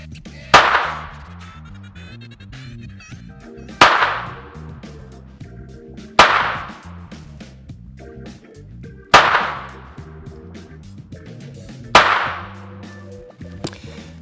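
Five sharp sport rifle shots fired at a target at an outdoor range, evenly spaced about three seconds apart, each loud and close with a short ringing decay, with faint background noise between them.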